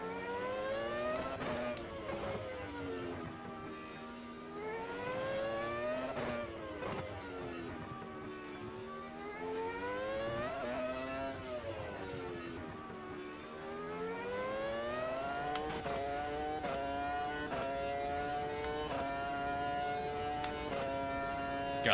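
F1 race cars in the sim racing game Automobilista 2 on an Adelaide circuit, high-pitched engines wailing and rising and falling through the gears, steady and continuous, fairly faint, without talk.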